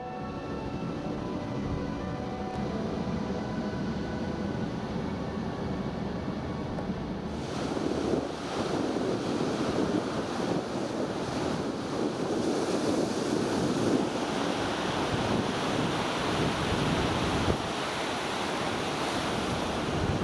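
Ocean surf rolls onto a beach at Pacific Rim on Vancouver Island, a continuous broad wash of breaking waves that swells louder partway through, mixed with wind buffeting the microphone, with no voices.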